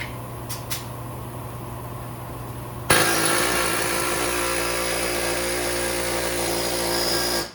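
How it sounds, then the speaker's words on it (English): A pneumatic air chisel with a pointed bit hammers a CV axle through the wheel-hub splines of a 2005-2012 Ford Fusion. A quiet workshop hum gives way to a loud, steady, rapid chatter that runs for about four and a half seconds. "Pointy air chisel bit. See if that CV axle will go through the splines of the hub."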